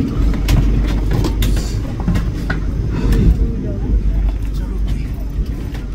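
The saffron Vande Bharat Express idles at a station with a low, continuous rumble and occasional clicks. People talk over it throughout.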